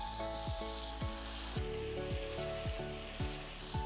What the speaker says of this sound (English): Now it's time to deglaze with some wine.